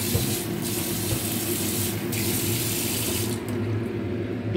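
A kitchen tap runs steadily and loudly for the whole stretch, with water splashing into a container while preparing fish for lunch.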